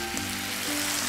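Soy sauce hitting capsicum in a hot pan, giving a steady close sizzle throughout with a low hum beneath, no voices.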